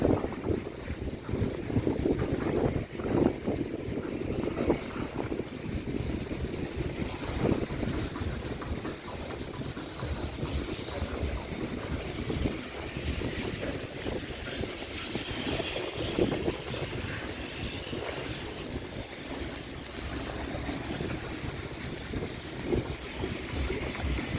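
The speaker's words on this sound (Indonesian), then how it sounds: "Lihatlah banyak kapal-kapal yang masih tertambat di kolam pelabuhan." Steady outdoor rumble at a harbor basin crowded with moored ships, some under repair, with wind buffeting the microphone throughout and no clear individual events.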